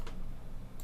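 Keyboard shortcut keypresses on a computer keyboard, a couple of quick clicks close by with no talking.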